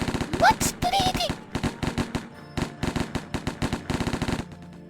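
Rapid automatic gunfire in the Lobotomy Corporation game, a long rhythmic stream of sharp shots. Brief voice sounds occur near the start.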